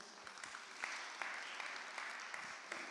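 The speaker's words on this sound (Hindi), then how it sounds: "ज़ोरदार तालियां उनील के लिए." Audience at a church family carol singing evening applauds softly, a steady low-level patter of clapping with occasional distinct claps, somewhat distant.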